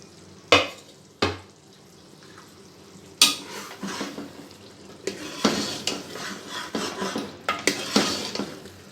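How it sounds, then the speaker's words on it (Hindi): A spoon scrapes and knocks against a pot of eggplant and potato curry in repeated strokes while it sizzles steadily underneath, close and fairly loud. "इसे थोड़ा थोड़ा मिक्सिंग कर लें।"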